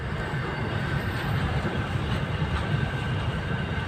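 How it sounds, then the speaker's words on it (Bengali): A train passes beside the station at Dankuni, a steady broadband rumble of rolling wagons that holds even and fairly loud throughout, with faint rail clatter in it and no voices. "এই যে স্টেশনের পাশেই আছে, খুব সুন্দর লাগছে, ট্রেন যাচ্ছে"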